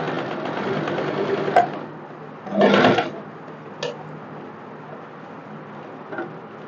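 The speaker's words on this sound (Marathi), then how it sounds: "तर आता आपण स्टिच करून घेऊया." A sewing machine stitches fabric in a sustained, close mechanical hum, broken by a louder burst of rapid stitching and a few sharp clicks before it settles to a softer run.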